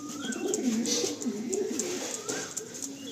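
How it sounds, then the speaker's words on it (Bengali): Pigeons in a rooftop loft in Behala, Kolkata, coo in low rolling, overlapping phrases throughout, close and steady, with faint twittering bird calls above and no speech. "খুব পছন্দের পায়রা।"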